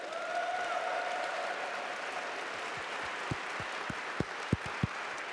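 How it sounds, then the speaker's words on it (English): Audience applause at an awards ceremony honoring firefighters, a steady wash of clapping from a sizable crowd in a hall, with a few sharper individual claps standing out near the end. "so let's give them a round of applause as well."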